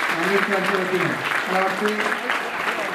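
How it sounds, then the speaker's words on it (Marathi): An audience applauds to welcome a guest at a celebration of Ahilyadevi Holkar's birth anniversary. The clapping is steady and spread out, with a voice speaking over it for the whole stretch. "आपण खूप टाळ्या वाजून त्यांचं स्वागत"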